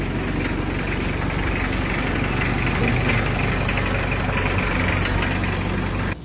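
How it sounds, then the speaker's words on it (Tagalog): Mitsubishi L300 engine idling during an engine check, a steady, close, mid-pitched mechanical hum with a faint knocking pulse that holds evenly throughout. "Sine-check yung makina."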